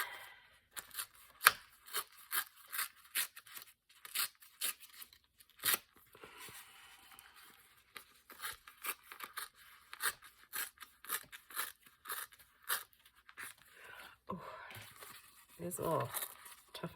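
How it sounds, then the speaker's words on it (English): Paper pages being ripped by hand for autumn journals, a long series of close, sharp tearing bursts in an irregular rhythm against a quiet background. "All right, last set of ripping."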